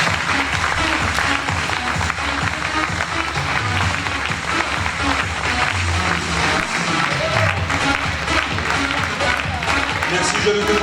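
An audience at a Hagetmau festival queen election evening applauds steadily and densely for the whole stretch as the contestants parade, loud and continuous with a murmur of voices underneath.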